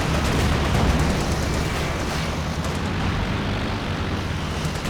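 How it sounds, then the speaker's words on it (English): Stuka dive bomber planes attack in Company of Heroes 2, a loud, continuous roar of aircraft engines mixed with rumbling explosions and battle noise. "that's actually quite a deep activation of these Stuka planes"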